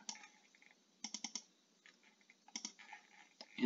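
A computer mouse clicked close by: several quick sharp clicks in small bursts, including rapid double clicks, with quiet gaps between them and no talk.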